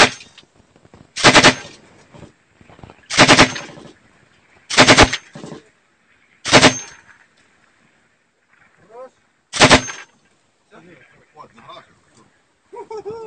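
Short machine gun bursts during a battle in Shirokino, Ukraine: five loud, sharp bursts spaced about two seconds apart, followed by quieter scattered sounds and faint distant noise.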